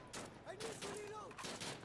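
Shotgun blasts from the game Insurgency Sandstorm crack in several bursts across about two seconds, mixed with other gunfire and a sweeping tonal game effect, with a voice briefly audible underneath.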